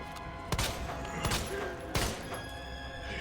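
Gunfire from Resident Evil 2 Remake, several loud, sharp handgun shots spaced about a second apart over a dense, continuous game soundscape.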